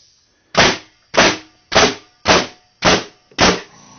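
A big framing nail gun run off a Rolair air compressor fires six sharp, loud shots in a steady rhythm about two-thirds of a second apart, each with a quick decaying thump, close by and with no talking.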